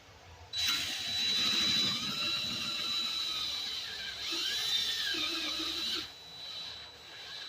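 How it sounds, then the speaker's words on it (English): A drill bit bores out a bolt hole in the brake backing plate of a Dodge Charger, giving a steady high whine with a squealing edge that runs for about five seconds, dips briefly midway, then winds down. "You see it's going through with the drill"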